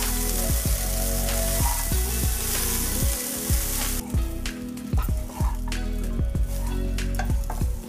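Coconut rice stirred and mixed in a pan, a spoon scraping in a steady repeating rhythm of strokes against the metal under a continuous sizzle that drops lower halfway through, no voices.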